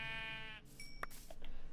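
A Minecraft sheep gives a single short, nasal bleat, followed by faint clicking game sounds.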